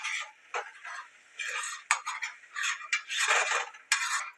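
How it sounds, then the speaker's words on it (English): A spoon stirring mushroom cream sauce in a pan off the heat, scraping and clinking against the metal in close, uneven strokes with wet swishing between them, no talking. "Just spoon everything, make sure nothing sticks."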